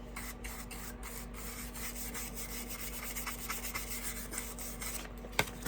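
Clear Fusion Mineral Paint wax rubbed onto furniture with a cloth, a steady close scratchy rasp that runs without a break over a low hum, with no talking.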